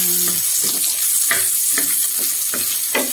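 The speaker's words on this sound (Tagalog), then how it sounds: "nagisang po ako ng bawang" Garlic and onion sautéing in a pan for a coconut-milk squid dish, a steady close sizzle with scattered scraping stirs throughout.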